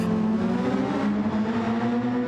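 Formula-style race cars running wheel to wheel in a video game at the Mount Fuji circuit, with steady, loud, high-revving engine drones layered together and no speech over them.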